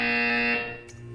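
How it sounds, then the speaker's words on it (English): A loud, steady electronic buzzer from Portal 2 sounds alone for about half a second, then cuts off and leaves a faint tonal hum. "When you hear the buzzer, stare at the art."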